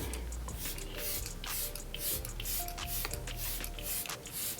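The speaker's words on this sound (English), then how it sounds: "So today I'm going to be using my MAC Fix Plus Stay Over setting spray, and we're just going to spray this to lock in the makeup look." MAC Fix Plus Stay Over setting spray misted toward a face in short hissing bursts, several quick sprays repeating over a few seconds at close range, with no talking.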